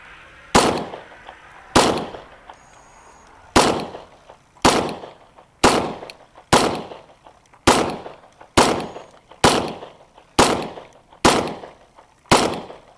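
A Ruger SR40 pistol fires at targets outdoors, with eleven sharp, loud shots spaced roughly a second apart in a steady rhythm and a short decaying echo after each.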